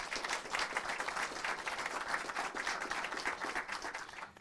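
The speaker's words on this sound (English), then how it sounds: "Let's give him a round of applause." An audience at a city council meeting gives a round of applause, a dense, continuous patter of clapping at moderate level from start to finish.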